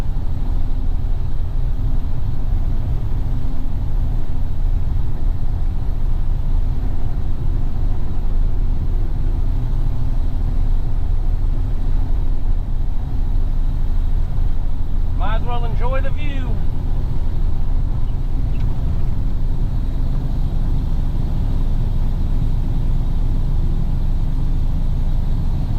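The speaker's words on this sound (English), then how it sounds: "I guess at least we get to test this truck with the trailer." Kenworth truck hauling a trailer, its engine a steady low rumble and road drone throughout, with someone talking over it.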